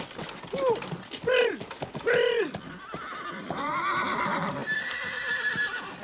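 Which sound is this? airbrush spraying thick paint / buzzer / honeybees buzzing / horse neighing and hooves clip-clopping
horse neighing and hooves clip-clopping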